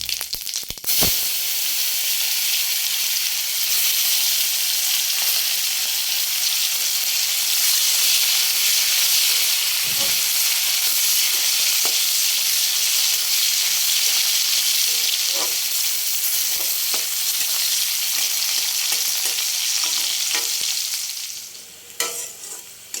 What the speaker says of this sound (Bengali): আমি একটু জিরে ফোড়ন দিয়ে দিলাম, এরপর আমি পেঁয়াজগুলোকে ছেড়ে দেবো